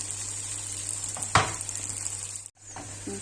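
Katmer flatbread sizzling steadily in a hot pan, a constant close frying hiss broken by a brief louder crackle as it is handled, then a short pause before the sizzle resumes.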